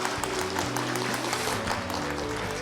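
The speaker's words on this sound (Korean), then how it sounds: "박수로 응원 부탁드리겠습니다" A church congregation applauds in support of a small-group member after a special hymn presentation, a brief even wash of clapping heard at moderate distance in a large room.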